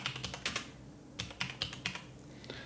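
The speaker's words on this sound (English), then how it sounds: "we're going to type in Disk Management" Quick bursts of keystrokes on a computer keyboard while typing a search term on a PC, in short clustered groups of crisp clicks separated by brief pauses, close and fairly quiet with no talking.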